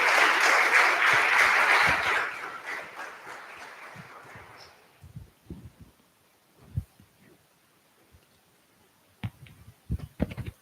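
Town hall audience applause starts full and dense, then thins over a few seconds into scattered claps, shuffling and faint room noise.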